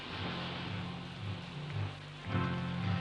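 Rain falls in a steady, soft hiss for a few seconds over a low background hum, with no voices.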